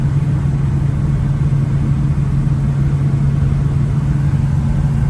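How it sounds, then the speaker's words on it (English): A 1969 Chevrolet K10 pickup truck with Holley fuel injection cruises along, its engine giving a steady, loud low drone with constant road rumble and no variation in pace. "We're out driving our 69 Chevy K10."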